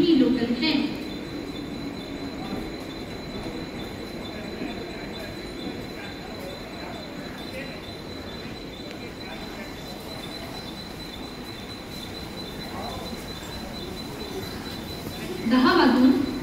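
A Mumbai suburban slow local train runs through Vikhroli station with a steady rumble and wheel noise, while platform announcements play over the station speakers and the sound swells again near the end.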